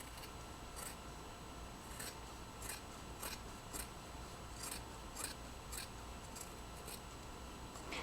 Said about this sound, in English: Okay, I'm done sewing, so I'm going to cut.